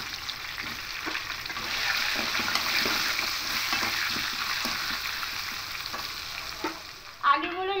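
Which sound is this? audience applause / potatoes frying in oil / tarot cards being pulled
potatoes frying in oil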